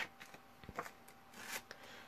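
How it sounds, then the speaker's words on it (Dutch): A handheld paper distressor scrapes along the edge of a sheet of paper in a few short, dry rasping strokes, close and quiet, with brief pauses between them. "ik ga even met mijn paper distressor weer langs mijn papiertje"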